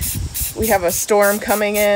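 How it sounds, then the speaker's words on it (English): Spray paint hisses from a can onto wood outdoors, a close, airy burst at the start that then sits under a person speaking. "We're just gonna spray, not into the wind."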